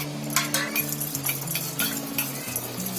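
A spoon stirring cornflour and water into a paste in a small bowl, giving light repeated clinks and scrapes of metal against the dish at a steady close rhythm, with faint background music.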